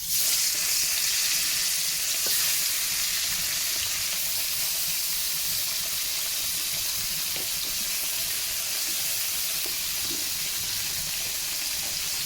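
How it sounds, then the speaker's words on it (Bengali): Tilapia fish fry in hot oil in a kadai, producing a loud, continuous hiss and sizzle close up that stays steady for the whole stretch, with occasional faint pops and clinks. "মাছগুলো ভাজা হচ্ছে"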